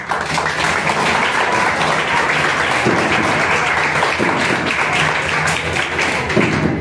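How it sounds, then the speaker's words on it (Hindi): Steady audience applause at a World No Tobacco Day gathering, loud and sustained throughout, with a low murmur beneath. "आज इसके लिए सभी बहुत तालियां बजाते"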